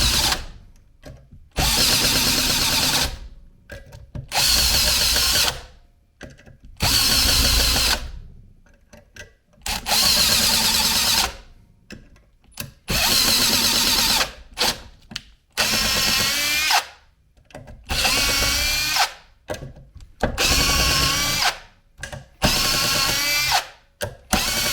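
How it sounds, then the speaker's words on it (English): Ridgid Stealth Force impact driver driving and backing out screws in a 4x4 post, loud close whirring bursts of a few seconds each, separated by short silences, repeating about a dozen times. "Let's drive and extract 6 screws into a 4x4 and time it."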